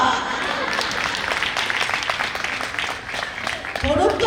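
Audience clapping at an evening religious katha gathering, a dense wash of applause across the whole moment with some crowd noise and a voice near the end.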